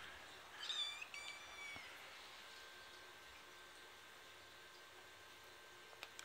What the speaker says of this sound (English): That's Iggy, our new kitten.